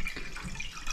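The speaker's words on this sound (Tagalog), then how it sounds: "Ayan dami ng tubig ulit. Pinupuno ko kasi yan." Water pours and splashes into a container as it is filled, a close, continuous gurgling rush with no talking.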